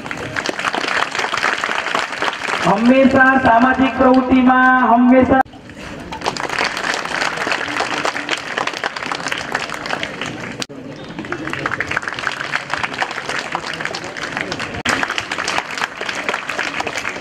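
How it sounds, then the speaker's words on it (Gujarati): A crowd at a high school event in Falghara village, Valsad district, gives a guest a long, loud welcome of applause. The dense clapping rolls on steadily after a short tonal passage with a voice, and talk carries over it. "જોરદાર તાળીઓથી આપણે વધાવી લઈએ"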